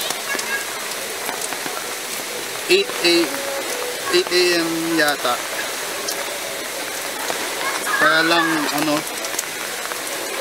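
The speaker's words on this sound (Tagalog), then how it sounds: "malakas ulan." Steady heavy rain hisses in a dense, continuous wash at a beach resort in Batangas, Philippines, with a person talking over it at moments.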